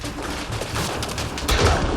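A grenade detonates in a Mass Effect Andromeda firefight, a dense burst of blast noise swelling louder near the end amid ongoing gunfire-like clatter.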